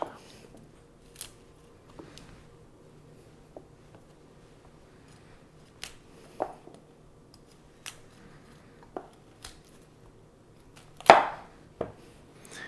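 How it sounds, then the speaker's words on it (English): Broccoli florets being cut off the stem with a knife, sparse crisp snaps and taps on a cutting board at irregular intervals, near and fairly quiet, with one louder crunch toward the end; no talking. "And what I want to do is cut off the florets."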